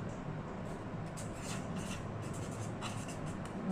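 Marker or chalk writing on a board during a maths lesson on functions, a steady faint scratching and rubbing across the whole stretch with no talk over it.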